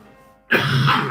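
A single short throat-clearing cough bursts in abruptly after a near-silent moment, close and fairly loud, from someone streaming live with a cold.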